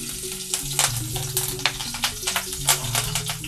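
Green chilies fry in hot mustard oil, a close, busy sizzle of sharp crackles and spits over a low steady tone, with no talking.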